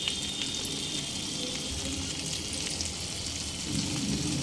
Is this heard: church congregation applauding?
no